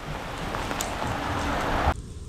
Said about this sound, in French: On est pris sous une averse de grêlon.